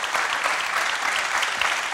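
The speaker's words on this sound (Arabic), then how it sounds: "تصفيق عليهم جمعيه هذوما" A studio audience on a Tunisian TV show claps in a steady, continuous burst of applause.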